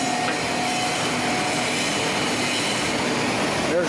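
A press compacting garlic waste into press cake, fed from an inlet hopper and running at 40 RPM, gives off a loud, steady mechanical drone with a faint squeal near the end and no talking.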